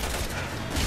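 Gunfire in Resident Evil 6 on the rooftops of Waiyip comes as a short dense burst of game shots, loud and noisy across the whole brief moment, without a clear gap between reports.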